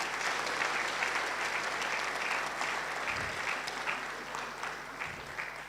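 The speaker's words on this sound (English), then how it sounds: "let's give them a round of applause." An audience at a graduation ceremony applauds an award-winning team with fairly soft, continuous clapping that gradually eases toward the end.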